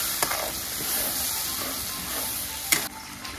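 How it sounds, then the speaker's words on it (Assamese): Fish fries in hot oil in a pan for a mustard fish recipe, giving a loud, continuous hissing sizzle close by, with a couple of sharp spatula clinks toward the end. "তেল ধুনীয়া গৰম হৈ আছিলে যে একদম পূৰা ধৰি গ'ল তো এইখিনি এতিয়া ধুনীয়াকৈ ভাজি ল'ম"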